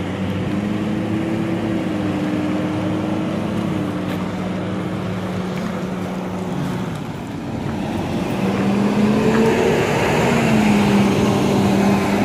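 A Cowra Bus Service bus drives through its depot, making a continuous diesel engine drone that dips briefly then rises again, with a changing engine pitch as it moves near the listener.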